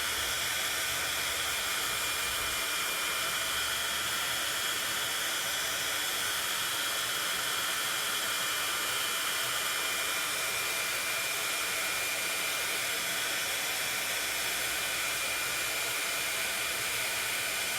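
A heat tool blows a steady, loud hiss of hot air for a long stretch, melting embossing powder across a whole card panel, with no pauses and no talking.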